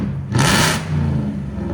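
A straight-piped BMW 740i E38 with a 4.4L V8 and stage 2 tune gives one short, sharp rev that bursts loudly over its idle, then drops straight back down.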